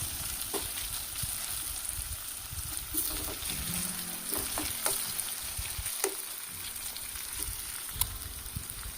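Mango prawn curry cooked Godavari style fries in a pan with a constant bright sizzle, while a spoon stirs and scrapes through it in irregular knocks and swishes, close and moderately loud.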